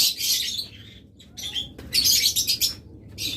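Caged pet birds, lovebirds, budgerigars and cockatiels of local breeding, chirp in bright close bursts with short pauses, several calls overlapping, and no talk.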